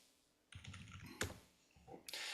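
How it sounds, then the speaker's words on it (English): Typing on a computer keyboard, a quiet burst of soft irregular key clicks with a sharper tap in the middle, close by and without talk. "And you notice how bad my typing is?"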